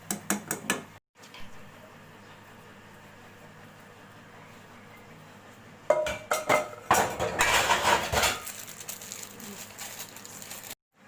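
Halwa made from suji and milk being served from a pan into a dish: a few sharp clinks of a utensil at the start, then a busy stretch of spoon scraping and knocking against metal and crockery, close and clear with no talk.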